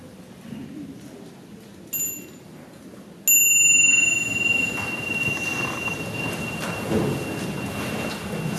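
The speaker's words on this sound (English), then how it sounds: "So now with the next small sound of bell, we will stand up." A small meditation bell struck twice during a Buddhist Vesak celebration, the first ring soft and brief, the second louder with a long, clear ringing decay over quiet room ambience.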